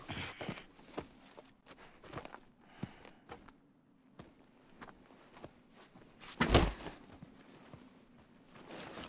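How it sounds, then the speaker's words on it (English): Footsteps in Death Stranding: a sparse series of soft, uneven thuds on a quiet background, with one louder heavy impact near the end. "I hear footsteps."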